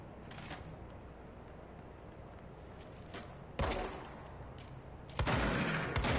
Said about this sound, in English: Shotgun, I think.